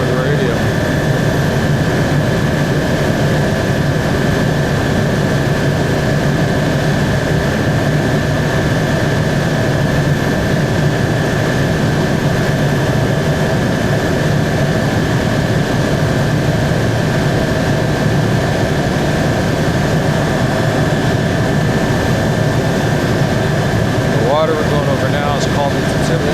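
Helicopter flying over Prince William Sound, Alaska, heard from inside the cabin: a loud, steady rotor and turbine drone with a constant whine runs throughout.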